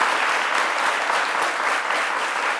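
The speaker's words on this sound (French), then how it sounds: "Ça s'applaudit, madame, monsieur." A studio audience applauds a taekwondo world champion, dense, even clapping from many people close by, continuous throughout with no voices over it.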